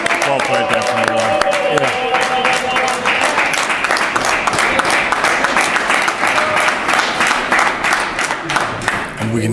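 A crowd at a table tennis league match between B75 and Hillerød keeps up sustained cheering with dense rapid clapping, loud and continuous. A commentator's voice can be heard faintly underneath.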